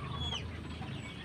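A chicken gives a short cluck with a quick rising squawk, close and moderately quiet, over low farmyard background noise.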